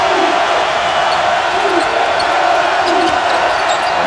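A sellout crowd of over 19,000 at an Arkansas vs Missouri college basketball game roars in a dense, steady wall of noise, with faint thumps that may be ball bounces beneath it.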